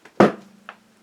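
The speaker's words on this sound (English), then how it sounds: "That's the sound of one of my leg braces snapping open." A metal leg brace snaps open with one loud, sharp crack, then a faint later click over a low steady hum.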